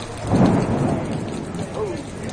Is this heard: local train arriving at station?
no